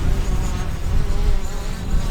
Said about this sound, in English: that buzzing sound up there, that's the newest member of our staff